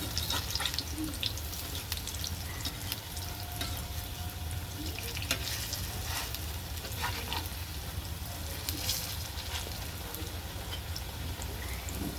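Steady, continuous sizzle of onion fritters frying in oil, a dense crackling hiss running evenly throughout with occasional faint clinks, no talking.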